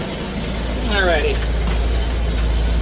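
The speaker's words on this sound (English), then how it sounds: "It's idling really well." A fire truck engine idles with a steady low rumble close by, while people talk over it briefly.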